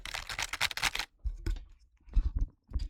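A loose-keyed computer keyboard gives a burst of fast close clacking, then scattered rattles and soft knocks after a short pause, with no typing rhythm.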